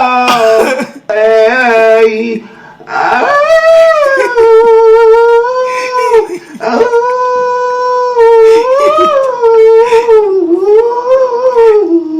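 A person's voice imitates a wolf howling, with long, wavering, rising and falling tones that swell and fade in several loud, drawn-out howls across the stretch.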